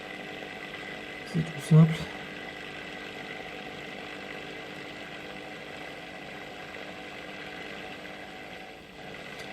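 An Eden 501 vacuum sucks sediment from a settling tank, a steady close droning hum running throughout, with a couple of brief knocks early on and a voice speaking briefly over it.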